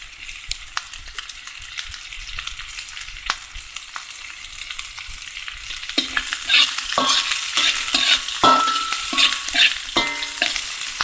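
Onions and curry leaves sauté in a pan for an egg manchurian, a low frying hiss at first that grows louder and busier with clinking, scraping stirs in the second half.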